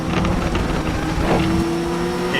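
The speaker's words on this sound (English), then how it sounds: "Those gearbox noises, I don't know if they can be turned down." Race car in the rFactor 2 video game, a loud whining gearbox and engine drone heard up close and continuously for a short stretch, with a steady tonal whine rising near the end.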